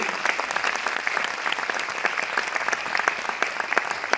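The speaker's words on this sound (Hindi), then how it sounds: "एक बार जोरदार तालियां हो जाए वेस्टीज के लिए" Dense, lively clapping from a large audience at a Vestige event, steady and sustained for several seconds, filling the room.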